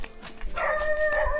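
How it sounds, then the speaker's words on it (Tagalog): A dog gives a short bark and a yip in reply, a single brief call from a little distance outdoors. "Aso yung sumagot ah."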